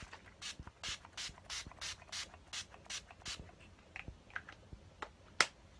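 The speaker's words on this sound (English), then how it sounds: "I'm just going to be setting my face with the Urban Decay De-Slick setting spray." Urban Decay De-Slick setting spray misted onto a face, a series of about nine quick, evenly spaced pump sprays in a steady rhythm, followed by a few softer clicks and one sharp final burst.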